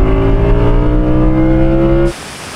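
An Audi RS6 and an Audi R8 accelerate hard side by side in a rolling half-mile drag race from 50 mph, with a loud, steady, rising engine drone that cuts off abruptly near the end, leaving quieter road and wind noise.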